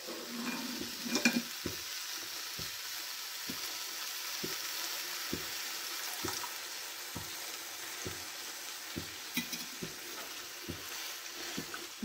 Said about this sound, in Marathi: दूध घालून 5-10 मिनिटं शिजवून घ्यायचं।